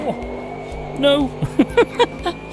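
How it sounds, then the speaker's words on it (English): A racing car in a video game drifts and roasts its rear tyres, the engine rising in a sweeping rev and then a run of short, sharp bursts of throttle and tyre noise over a steady background hum. "I'm pretty certain he's roasting his rear tyres now"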